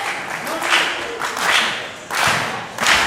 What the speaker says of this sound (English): Crowd now trying to rally Mitch Waterman.